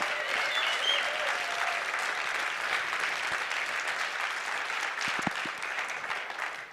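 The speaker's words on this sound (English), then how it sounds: "Round of applause." Steady, distant applause from a crowd at a lawyers' association annual general assembly, a dense patter of clapping held at an even level throughout.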